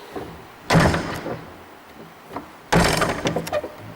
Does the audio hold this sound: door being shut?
yes